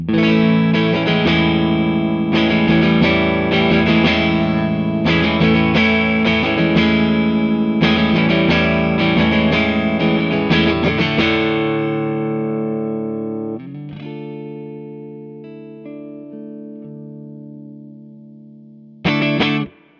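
A loud, heavily distorted electric guitar through a studio amp with no attenuation, recorded by a room microphone, plays dense chords and riffs, then lets a chord ring out and fade before a final short strummed burst.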